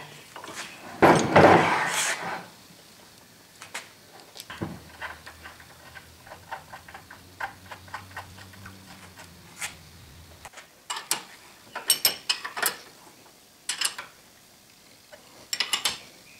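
Nuts and washers being tightened on the underside of a Wilton bullet vise mount: sharp metallic clinks and taps come in scattered bursts, with a low steady hum running through the middle stretch.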